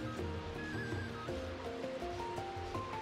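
A waterfall in the video game Biped gives a continuous rushing-water roar beneath the game's melodic background music, with no one talking.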